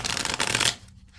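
A deck of Light Seers tarot cards is riffled close by in a brisk, papery flutter that stops abruptly, leaving near quiet, with no talking.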